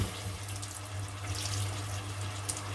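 A kitchen tap runs steadily into a sink while cooking utensils are rinsed, giving a close, continuous splashing hiss with small clinks and splashes and no voices.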